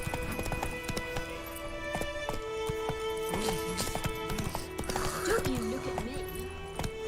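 Horse hooves clip-clop at a steady galloping rhythm in The Witcher 3 video game, close and clear over a low music bed, with a brief whinny near the end.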